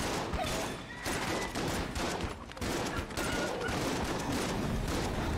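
Dense, continuous crackling bursts of gunfire from the Dragon Breath gun in Enter the Gungeon, rapid overlapping shots with brief dips, loud and sustained throughout.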